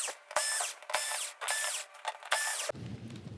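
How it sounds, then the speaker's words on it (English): A powered screwdriver whirs in repeated short bursts, about five close, loud runs with brief pauses, backing a screw out of the power supply board of a Toshiba 46SL417U TV, then a softer rattle as it stops. "We're gonna remove this screw to completely free the power cord from the power supply."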